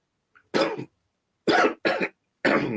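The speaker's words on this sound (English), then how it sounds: "excuse me for the cough" Four harsh coughs ring out close and loud: one, a pause, then two in quick succession, and a final one after a short gap.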